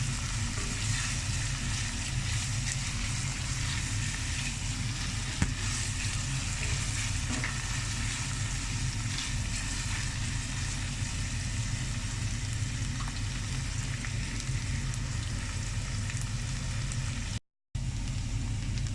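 Onions sizzle and fry in a pan with ginger, garlic and green chillies for a butter chicken gravy, a loud continuous crackle with occasional stirring, broken only by a brief silent gap near the end.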